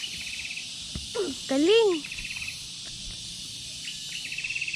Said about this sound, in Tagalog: Kuliglig lang po yun